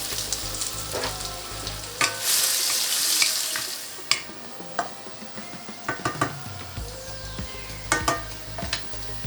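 Ginger and garlic sizzle hard in hot vegetable oil on a medium-high stove for a shrimp lo mein stir fry, with a loud burst of frying and a few sharp clinks and scrapes from stirring.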